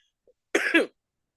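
A single harsh cough, close and fairly loud, bursting out twice in quick succession after a faint earlier sound, then silence.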